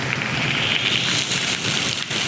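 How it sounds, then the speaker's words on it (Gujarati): Steady hiss of rain falling during a wedding, a dense continuous wash of drops with no voices, holding at an even level throughout. "વરસાદ પડે છે"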